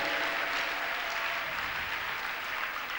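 A church congregation claps in a dense, steady wash of applause that fills the room evenly for the whole stretch, with no voices standing out.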